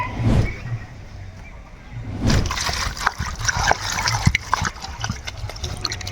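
Goat skin is rubbed and washed by hand in water, giving close bursts of splashing, sloshing and trickling that swell and fade irregularly.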